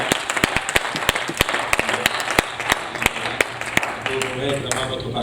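A church congregation applauds its pastor with steady rhythmic clapping, loud and close, a dense crowd of claps with sharp individual hand slaps cutting through and some voices mixed in.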